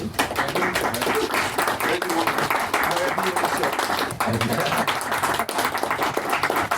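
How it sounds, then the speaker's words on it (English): Audience applause for a panelist walking onto a conference stage, continuous clapping from a crowd with voices mixed in underneath, fairly loud throughout. "Christian, round of applause, people"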